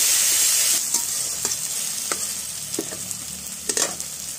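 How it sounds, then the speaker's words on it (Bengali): Chopped onion and tomato fry in hot oil with bay leaf, dried chilli and cumin seeds. The sizzle is steady and close, and several sharp scrapes and clacks of a stirring spoon against the pan punctuate it. "পেঁয়াজ টমেটোটা একটু ভাজা ভাজা করে নেব।"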